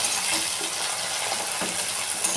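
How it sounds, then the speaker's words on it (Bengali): Chopped tomatoes fry with onions in a pan, giving a soft, continuous sizzle with light stirring scrapes, moderately faint and without any talk. "টমেটোটা আমি ভেজে নেবো পেঁয়াজের সাথে ভালোভাবে।"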